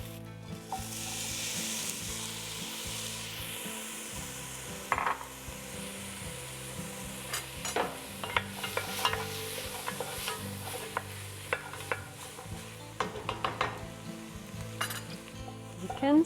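Cauliflower cooking in a pot for a dairy-free creamy potato soup, with a soft sizzle beneath scattered scrapes and clinks of a utensil against the pot, faint and close, growing busier toward the end.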